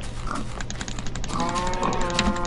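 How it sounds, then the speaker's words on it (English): A pig oinking in the Minecraft video game, short grunts heard over a busy backdrop of rapid keyboard clicking and game noise. "Pig."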